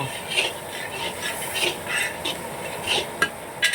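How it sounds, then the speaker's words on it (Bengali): Chopped tomatoes sautéing in a pan, giving a moist hiss and sizzle with short bursts of stirring and a couple of brief metal clinks near the end. "এবার টমেটোটা একটু কষাবো"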